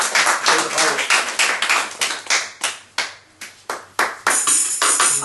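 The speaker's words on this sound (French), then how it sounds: "Sous les applaudissements du public." Audience clapping in a hall, starting as dense applause and thinning into scattered, separate claps before swelling again at the end.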